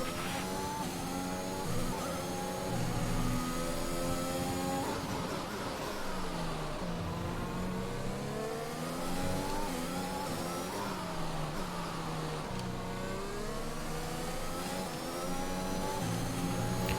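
An F1 race car engine in the video game F1 2021 screams through repeated rising and falling revs on a Portuguese Grand Prix track, a continuous loud, high-pitched whine shifting up and down with no talk.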